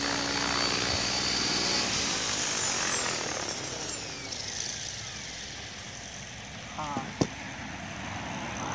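A KDS 550 RC helicopter flies after rain, its rotor and motor whine loud at first, then sweeping away and fading, with a sharp click and a voice briefly heard near the end.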